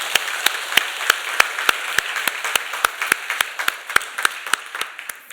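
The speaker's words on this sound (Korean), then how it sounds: "네, 우리 같이 박수할까요?" Church congregation clapping together during a Sunday worship service, a regular rhythmic beat of sharp claps in unison, about three per second, steady and moderately loud.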